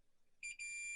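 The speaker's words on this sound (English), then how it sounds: "get my multimeter into continuity, which means it beeps" Multimeter set to continuity mode emits a sharp, steady high-pitched beep while testing parts during a Dyson vacuum strip-down, starting about halfway through and holding to the end, with a brief dropout near the start of the tone.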